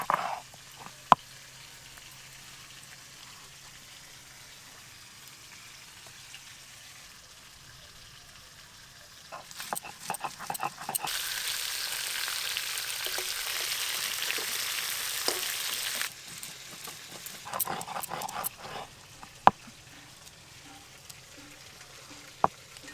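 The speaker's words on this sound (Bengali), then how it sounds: "মাছ থেকেই অনেক তেল বেরোচ্ছে, আর তো ওই তেলেই মাছ ভাজা হয়ে যাচ্ছে।" Pangas fish frying in its own rendered oil, a steady crackling sizzle that swells loud and hissing midway, then settles back, with occasional sharp pops and clicks.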